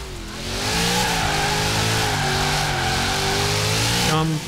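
A Ford Mustang in Forza Horizon 4 revs hard as its tyres squeal through a skid, with a loud, continuous, wavering engine note that runs for several seconds.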